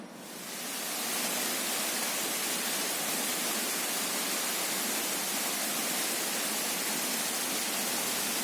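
The Grobogan Sewu waterfall roars as a continuous broad rushing of falling water that swells in over the first second and then stays steady and even, with no voices.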